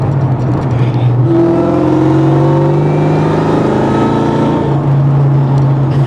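A 2003 Mustang Cobra's engine revs loudly and steadily up and down in continuous close-range pulls, with no talk.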